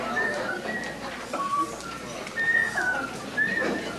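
Person at a high school class reunion whistling a TV theme song, a thin clear melody of short rising and falling notes, fairly close, with room murmur and voices underneath.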